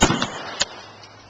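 Homemade baking soda and vinegar airsoft grenade bursting with a sharp, close pop at the very start, followed by a fainter crack a moment later and a short hissing tail.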